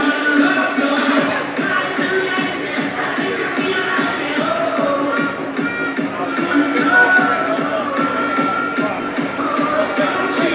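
Steady applause from a rugby league crowd after a successful kick, continuous rustling clapping at moderate distance with no pauses.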